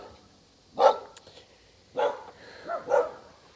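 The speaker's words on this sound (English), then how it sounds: "Little doggies." Dogs bark outdoors in a few separate bursts, one sharp bark then a pair of louder barks close together, moderately near, with quiet gaps between.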